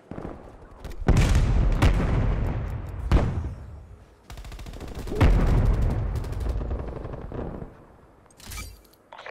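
Bursts of gunfire in a Call of Duty multiplayer match, several loud volleys separated by brief pauses, with sharp single shots and rapid automatic strings ringing out close by.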